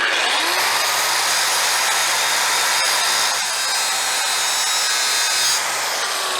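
An angle grinder bears steadily on a worn metal piece to cut a bevel, giving a loud, continuous high whine with slight dips in pitch as the disc loads.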